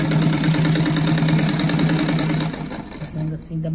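A sewing machine stitches a patchwork rug with a rapid, steady mechanical whir, then slows and pauses near the end while someone talks over it.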